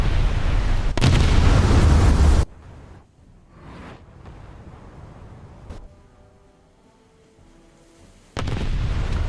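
Naval gunfire striking a ship in World of Warships: loud, roaring explosive blasts at the start and again at the end, separated by a quieter stretch of low rumble and faint alert tones.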